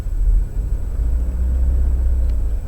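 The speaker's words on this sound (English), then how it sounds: "I know this car sounds really loud and rough" A car engine runs rough and loud at a steady idle, a constant low rumble with no break, alone and close.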